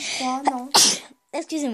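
A single sharp sneeze bursts out in the middle of French speech, loud and close, with talking before and after it.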